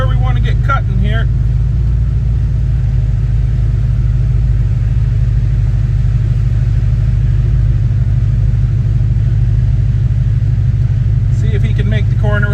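Tractor pulling a haybine along a road at about five miles an hour, a loud, steady, close engine rumble throughout, with someone talking over it at the start and end.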